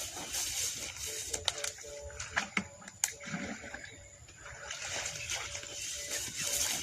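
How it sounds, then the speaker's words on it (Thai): Water is scooped from a pond and poured into a container for mixing durian liquid fertilizer, giving splashing, sloshing pours with a few sharp clanks and a steady trickle at close range. "ตักน้ำใส่ก่อนครับ"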